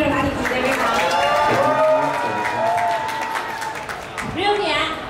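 Premiere crowd gives actor Tui Theerapat a round of applause, steady dense clapping mixed with cheers and excited voices, loud and sustained, easing slightly near the end.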